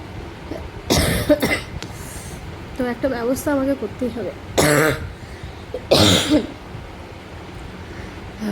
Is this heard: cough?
yes